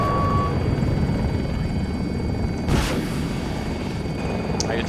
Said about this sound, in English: I took a helicopter.